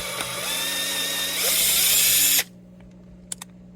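A cordless drill whirs in reverse to back a part out of a 1971 Gibson Les Paul Deluxe guitar during a teardown, a close steady whine that rises in pitch before stopping abruptly, followed by faint clicks.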